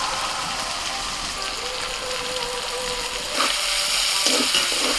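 Chopped onion sizzling with small chicken pieces in a pan while making chicken rolls, a steady even frying hiss throughout that swells slightly near the end.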